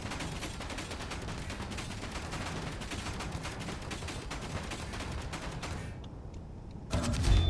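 Rapid, continuous gunfire rattles on for several seconds in a Space Engineers survival scrapyard, then briefly drops out before a louder burst returns.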